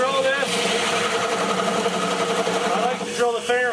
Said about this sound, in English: I like to drill the finger holes to 2 inches deep.